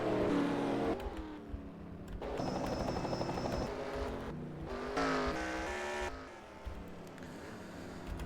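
In a video game, racing truck engines at the Circuit of the Americas (COTA) roar and rev in bursts, with shifting pitch as they slide through the esses, plus brief tire squeal. The sound is loud and dense, with no voices.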